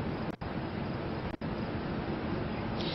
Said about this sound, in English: you can see and really hear that water just pouring out of Oakdale Dam